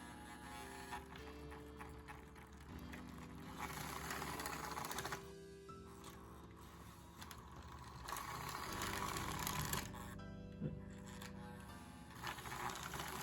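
An AHM Alco C-628 model locomotive motor running forward slowly, a low continuous mechanical whir and hum with faint rhythmic clatter, quiet and steady, dipping briefly midway.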